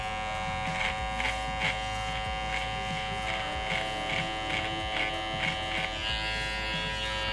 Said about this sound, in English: clippers a lot of the time will just push hair out of the way without cutting it